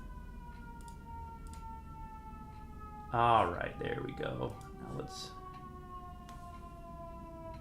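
An ambulance siren passes outside, a steady tonal wail that slowly drifts lower in pitch and runs throughout, while someone talks over it for a couple of seconds in the middle.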